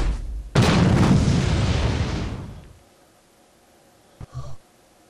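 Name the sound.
grenade explosions in video game Saints Row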